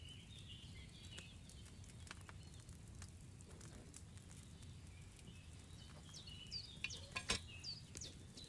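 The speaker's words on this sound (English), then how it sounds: "Hear that bubbling? It's boiling." A cauldron boils and bubbles over a flame in the video game Kingdom Come: Deliverance II, a faint, steady simmer with soft crackling and a few sharper clinks near the end.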